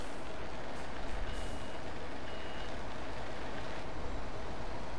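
A truck reverses in a construction simulator video game while a backup alarm beeps steadily and repeatedly over a loud, constant engine rumble, with no talking.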